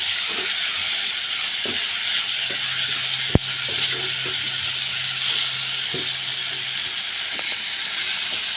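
Tomatoes sizzling in a hot pan while cooking an egg curry: a steady, even hiss of frying, with a few soft clicks and one sharp tap partway through.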